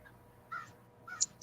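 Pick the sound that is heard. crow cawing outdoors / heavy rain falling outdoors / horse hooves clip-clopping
crow cawing outdoors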